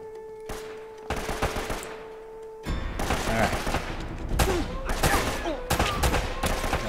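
Bursts of automatic gunfire and scattered shots in Uncharted: Drake's Fortune, loud and close, coming in rapid volleys that grow denser toward the end.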